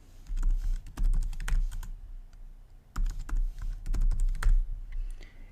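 A password is typed on a computer keyboard in two quick runs of close, crisp key clicks separated by a brief pause, with no voices.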